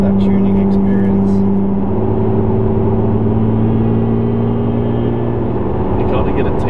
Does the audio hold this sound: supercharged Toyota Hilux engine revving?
yes